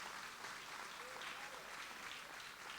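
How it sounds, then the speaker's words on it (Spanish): Applause from a church congregation during a sermon, a soft, distant and steady patter of many hands, faint throughout the clip. "Creo que merece un aplauso este también."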